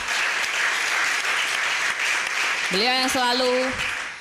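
An audience breaks into steady applause at a business event, the clapping sustained and fairly loud throughout. Near the end, a voice briefly rises over it.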